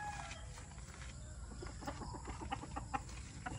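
Fighting roosters brought to a cockfight, scattered short clucks from chickens nearby over steady background noise, with no talk.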